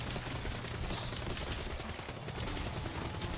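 An automated turret in the zombie game Dead Ops Arcade 2 from Black Ops 3 fires continuously, a dense, loud rattle of rapid gunfire with no break across the whole stretch.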